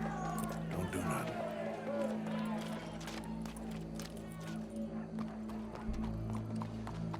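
Horse hooves clip-clop in Red Dead Redemption 2, a steady trotting patter under constant game ambience and music, with occasional whinnies and voices talking over it.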